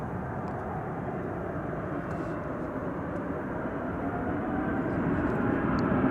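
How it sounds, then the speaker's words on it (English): A Japan Airlines Boeing 777-300ER on a go-around at DFW airport sends a broad, steady jet roar that builds slightly louder toward the end, heard from a distance with no voices. "777-300ER. It's going to go around. Go around 3000 Japan 12 heavy."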